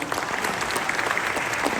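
Applause from an audience fills a gala event for the Indian Film Festival of Melbourne, a dense, steady wash of many hands clapping with no voices standing out.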